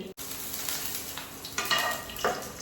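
Chopped chilli dropped into hot oil in a home kitchen, sizzling and frying steadily at close range, with louder crackling bursts of spitting toward the end and no talk.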